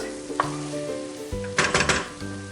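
Rice pilaf with noodles sizzles in a pot with a few scraping stirs of a spoon near the end, close and moderately quiet, no voices.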